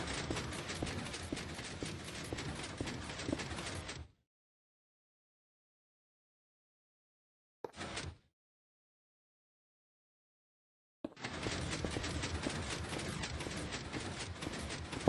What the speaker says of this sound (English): when it's down, it activates the piston and the machine launches